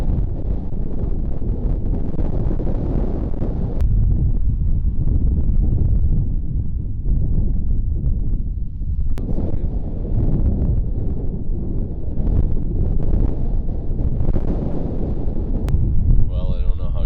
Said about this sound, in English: I don't know how good the audio is going to be because it's getting really windy